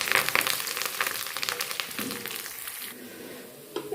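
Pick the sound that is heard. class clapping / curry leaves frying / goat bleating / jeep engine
curry leaves frying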